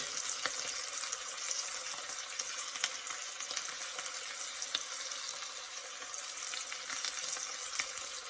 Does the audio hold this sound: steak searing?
yes